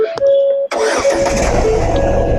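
A 2017 Ford EcoSport diesel engine cranks and catches after a brief chime, then settles into a steady, loud idle close by, with no talking.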